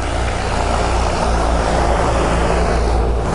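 Engine running while powerful fans blast sand over it in a simulated sandstorm, heard as a loud, steady broadband roar with a low rumbling drone throughout.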